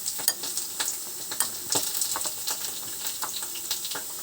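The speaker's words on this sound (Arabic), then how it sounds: "هنقلب بقى كله مع بعضه كده" A lemon filling of safflower, nigella seeds and salt is stirred with a spoon, making close, irregular scraping and gritty rustling strokes over a faint background hiss, with no speech.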